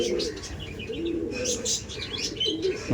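Male All India prize racing pigeons cooing close by, repeated low throaty coos layered with some higher chirps and faint rustling.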